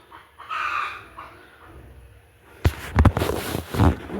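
Young Fayoumi chickens cluck and call softly at first, then loud rustling and knocking bursts break in close to the microphone.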